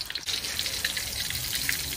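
Tonkatsu pork cutlet fries in hot oil over a lowered flame, giving a dense, steady crackle and sizzle with scattered sharper pops, close and continuous.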